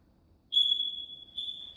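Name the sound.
smoke detectors beeping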